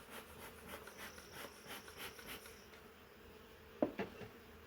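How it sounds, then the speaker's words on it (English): Honey bees buzz faintly but continuously in a swarm trap hive, a soft steady hum with a brief rubbing knock near the end. "The bees are starting to draw out the comb in the top box"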